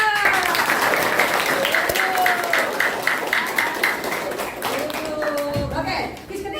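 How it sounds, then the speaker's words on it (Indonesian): Students applauding during a classroom quiz on the human digestive system, a dense burst of clapping from a group with voices and cheering mixed in, slowly thinning toward the end. "Berikan aplaus."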